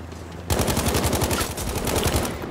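Automatic assault rifle fire in Battlefield V, a rapid, close, loud stream of evenly spaced shots that starts abruptly and rattles on steadily for about two seconds, with no voices over it.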